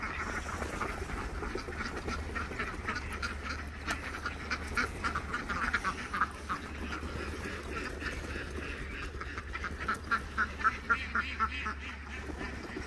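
Ducks, with dogs nearby, quack steadily in a farmyard while eating eggshells during egg collecting, a dense, continuous chorus of overlapping calls, with louder bursts of rapid quacks toward the end.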